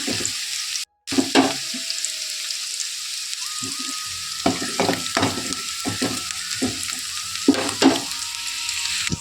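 Sliced onions sizzling and being stirred in a hot pan for a Muslim-style bagara khana brinjal curry, a steady close frying hiss punctuated by repeated scraping and clattering of the spatula against the pan.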